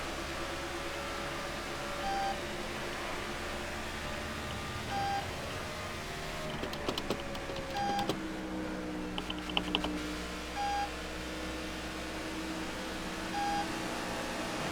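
Repeated short electronic warning beeps recur at a steady spaced rhythm in the NASCAR 15 racing video game, sounding over a constant engine drone with a few brief clicks in the middle.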